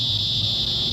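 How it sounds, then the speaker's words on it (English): Loud, steady cicada drone fills a Florida backyard at night, a continuous high buzzing chorus from several insects nearby with a low hum underneath. "I'm just hanging outside and listening to cicadas."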